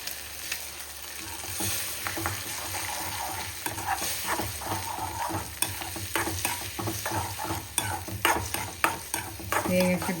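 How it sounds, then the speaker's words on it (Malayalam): Beaten egg cooks with onion and grated coconut in a pan for a Kerala egg upperi, sizzling steadily up close while a spoon repeatedly scrapes and stirs, with no talking. "നമുക്കിതിലേക്ക് മുട്ട ഒഴിച്ച് കൊടുക്കാം"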